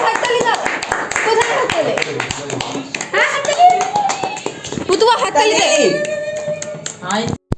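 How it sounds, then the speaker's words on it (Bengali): Family members clapping at a small home birthday celebration, with a burst of applause mixed with children's voices and chatter, then the noise trailing off and stopping abruptly at the end. "হাততালি দাও"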